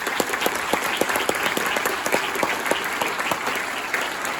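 Audience at a town hall meeting applauding steadily, with many hands clapping in a dense, even patter that holds for several seconds in a room, with no voices above it.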